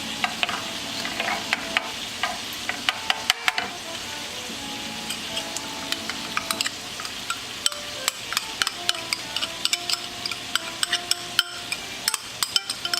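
Butter sizzles steadily in a hot frying pan for pesto steak, a close, continuous crackling hiss broken by frequent sharp pops and spatters over the whole stretch, with no talking.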